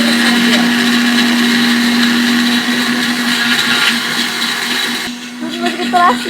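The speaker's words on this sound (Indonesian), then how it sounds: "Kita blender semuanya." A kitchen blender runs loudly, grinding ingredients with shrimp paste into a spice paste for fried chicken with lime leaves. Its continuous high whir holds for about five seconds, then cuts off as people start talking.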